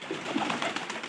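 Pigeons cooing softly in a coop at feeding time, low rounded coos repeating close by over a steady background hum.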